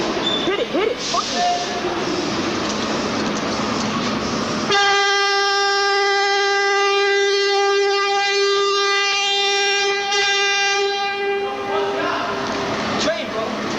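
A train rumbles past loudly and close, then its horn blasts in a long sustained tone for several seconds before fading back into the rolling noise of the cars.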